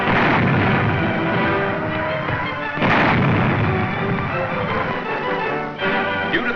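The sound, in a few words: Canadian tanks firing their guns near Ypres, 1944 newsreel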